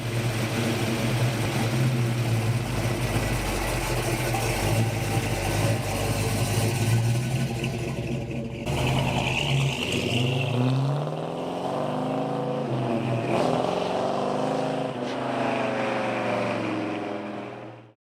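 A 1970 Mercury Cyclone Spoiler with the 429 Super Cobra Jet V8 runs steadily at close range, its deep rumble holding for most of the clip before revving and shifting, with no voices.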